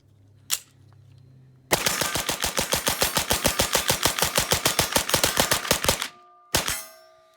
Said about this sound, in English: Let's see how fast that trigger really is. I'm probably going to miss a few shots